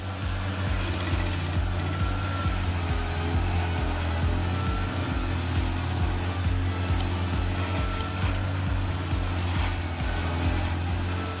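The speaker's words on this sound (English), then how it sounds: "The Vermeer South Carolina 1102, a tree stump cutter, operates on St. Paul Avenue." A Vermeer 1102 stump cutter grinds a tree stump on a street, its engine giving a steady, loud mechanical whine and rumble with pulsing low throb throughout, no voices.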